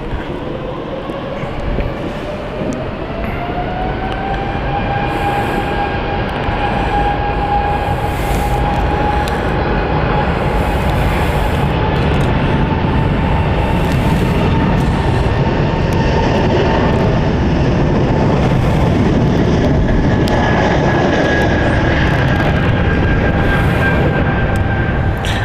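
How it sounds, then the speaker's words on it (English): An ITA Airways Airbus A220 departs London City Airport, its loud, steady jet engine roar with rising whine tones building over the first few seconds and then holding strong and close throughout, with no talk. "Beautiful, departure. Beautiful ITA A220."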